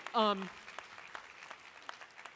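Scattered applause from a conference audience follows a short spoken phrase, sparse, uneven claps from a modest crowd, fairly faint and thinning out toward the end.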